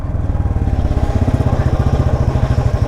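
A modified Royal Enfield Classic 350 motorcycle engine runs while riding, giving a steady, loud, close thumping pulse with an even rapid rhythm throughout.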